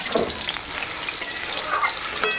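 Jackfruit sizzles and fries in a pan while being stirred, a steady close hiss with scraping of the spoon throughout, no voices.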